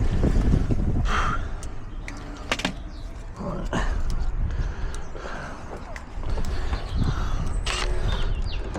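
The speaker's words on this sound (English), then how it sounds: "Bit windy today." Gusty wind buffets and rumbles loudly against the microphone, with scattered knocks and rustles mixed in.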